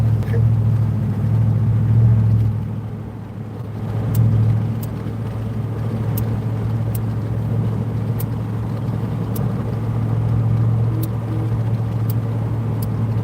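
Steady low engine rumble of a truck with about 196,505 miles on it, running while driving, continuous and fairly loud from inside the cab, with faint light ticking and occasional brief voices.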